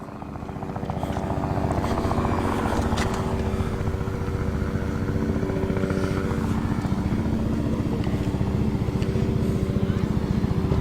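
A Triumph motorcycle at an outdoor car meeting in Cheshire runs close and loud with a continuous throbbing engine note that builds in the first second, while a voice talks faintly underneath.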